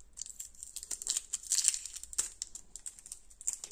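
Adhesive tape is peeled away from a workpiece near a hand-made file repair, a faint, close crackling and crinkling that rips along unevenly for several seconds with no talking.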